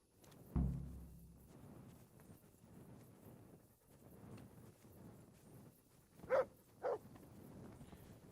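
Mutt the dog gives two short, quiet barks close together near the end in Kingdom Come Deliverance, after a single soft thump and a long stretch of faint background ambience.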